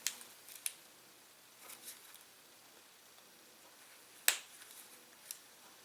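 Sharp clicks of cutters snipping through the black and red battery wires of a DJI Phantom 4, a few quiet snips with one distinct loud cut near the end, close and isolated.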